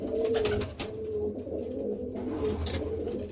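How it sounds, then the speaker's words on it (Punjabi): Pigeons coo in low, throaty, repeated calls, fairly close and steady, with faint rustling in the background and no voices. "ਤੰਨੇ ਗਾਲਾਂ ਦੀ ਰਾਜਨ ਵਾਲਿਆਂ ਦੀ ਕਬੂਤਰੀ ਹੈ"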